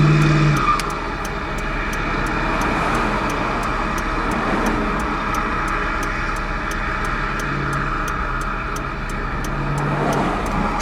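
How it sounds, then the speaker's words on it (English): A car engine idles roughly with the choke off, a steady low rumble with an uneven, loping pulse heard up close, alone without talk, and a faint regular ticking running over the top. "You can tell by the rougher idle."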